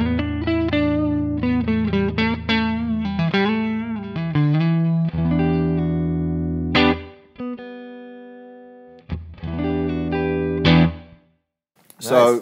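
Electric guitar played through a clean, American-style amp tone, ringing chords and single notes with light reverb, pausing briefly between phrases.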